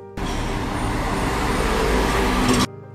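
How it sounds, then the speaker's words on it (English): Strong road traffic picked up by a seismometer in an urban setting: a dense, continuous low rumble with a steady broadband roar that holds for about two and a half seconds, loud and close. "Besides a strong road traffic like this,"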